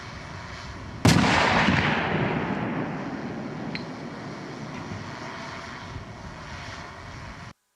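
A self-propelled howitzer fires one loud, sharp blast, followed by a long rumbling roar that slowly fades over several seconds.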